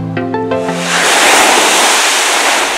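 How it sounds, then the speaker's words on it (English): Crashing ocean waves on the Malibu shore swell into a loud, broad roar of surf after a short tonal sound fades out at the start, continuing steadily with no talking. "The sound of crashing waves in Malibu"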